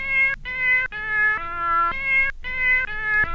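Cat meow samples play as a stepped arpeggio on a Teenage Engineering PO-33 sampler. About six clear, pitched meows follow one another in a steady rhythm, each holding a tone before jumping to the next pitch, with no voices.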